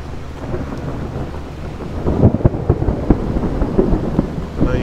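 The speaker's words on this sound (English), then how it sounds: "All right, guys, the thunder's picking up." Thunder rumbles and cracks through a heavy thunderstorm over fishing water, with steady rain beneath; sharp claps build in the second half over a continuous low roar.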